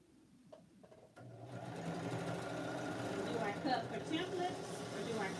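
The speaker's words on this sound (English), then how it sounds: "one more seam and then I have another block completed" A sewing machine stitching a quilt block seam, starting after a brief pause and then running steadily and close with a rapid mechanical whir, with a voice talking faintly underneath.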